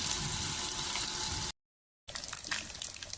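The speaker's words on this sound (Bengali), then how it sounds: "এখন আবার কারেন্ট আসার পরে ওখানে আমি ঠান্ডাগুলো ভেজে নিচ্ছি" Fritters frying in hot oil on a gas stove give a steady broadband sizzle and hiss, cut by a short silence, then resuming with crackling pops.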